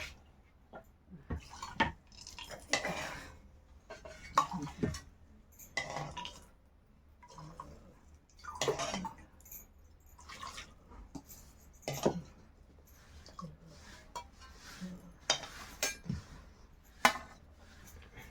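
Used frying oil left from making bhaji is poured and scraped into a tin container, producing scattered metallic clinks, taps and soft liquid dribbles separated by quiet pauses, close and fairly faint.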